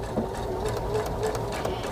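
A sewing machine stitches a paper-pieced quilt star block, giving a steady, close, continuous mechanical whir with fast needle rhythm and no talk.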